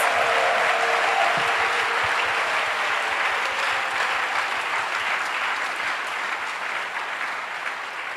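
Congregation clapping at a Sunday praise and worship service in a church temple in Adjamé, Abidjan; steady rhythmic group applause, loud and continuous throughout with a faint voice beneath.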